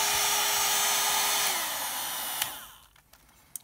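A heat tool used for alcohol ink painting blowing loudly on its higher setting, a steady whirring roar with a shifting tone that cuts off, followed by faint clicks and handling.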